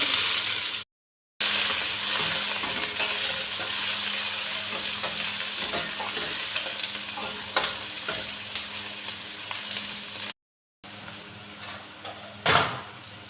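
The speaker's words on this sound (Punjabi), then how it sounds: "ਜਿੰਨਾ ਚਿਰ ਆਪਣੇ ਪਿਆਜ਼ ਬਰਾਊਨ ਹੁੰਦੇ ਉਹਨਾਂ ਚਿਰ ਆਪਾਂ ਭੁੰਨਾਂਗੇ" Onions, garlic and ginger frying in a pan over a gas flame give a steady, crackling sizzle with occasional stirring clatter. It is heard close up, with two short gaps of silence and no talking.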